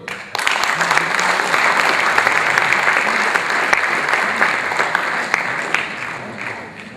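Sustained audience applause at a Toastmasters event, dense steady clapping from a large crowd that starts abruptly, holds strong throughout and tapers slightly at the end.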